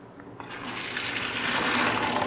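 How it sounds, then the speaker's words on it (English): Water drains from boiled rice through a colander, pouring steadily and splashing in a continuous rushing sound growing slightly louder, with no talking. "Just strain away the excess water."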